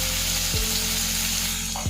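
Onion frying in oil with spices for a mixed vegetable drumstick curry, a loud steady sizzle close up with a couple of soft stirring sweeps, no talking.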